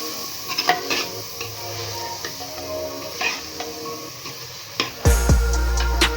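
Spiced chicken being stirred in a hot pan with salt, turmeric and red chili, a spoon scraping and clinking against the metal over a steady sizzle, with a louder clatter near the end; no talking.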